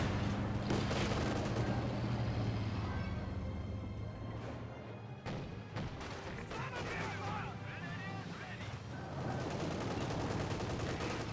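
Company of Heroes 2 battle gunfire, with a half-track's guns firing on infantry: dense bursts and rapid cracks of weapon fire rattle continuously alongside distant booms, with a voice talking over the noise.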